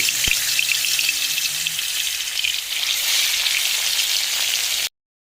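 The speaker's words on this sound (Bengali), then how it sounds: "তেলটা গরম হয়ে গেছে এই জন্য মাছগুলোকে দিয়ে দেব ভেজে নেওয়ার জন্য" Fish sizzles in hot oil in a wok, a loud, steady crackling hiss that carries on for several seconds before cutting off abruptly.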